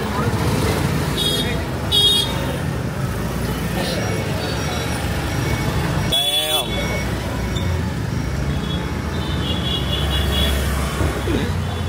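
Fast road traffic in Udaipur, India, with vehicles passing very close: a steady roadway roar throughout, one loud close pass at about six seconds, and people talking over the noise.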